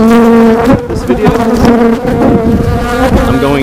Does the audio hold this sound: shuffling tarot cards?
no